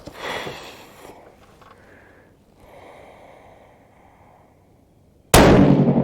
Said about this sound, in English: this will be 3 shots on position with position 4 on dot 4